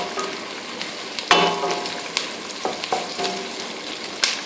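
Garlic and ginger sauté for chicken liver adobo, a steady soft sizzle in hot oil with occasional sharper pops and stirring scrapes, heard alone at moderate volume.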